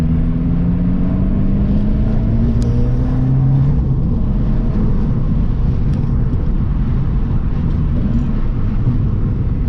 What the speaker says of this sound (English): I like a bit of exhaust noise.